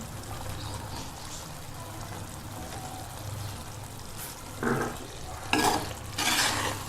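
Green chilies, whole, and mixed vegetables with a little dried fenugreek are stirred in a cooking pan, giving a low steady sizzle with a few louder scraping stirs near the end, close by.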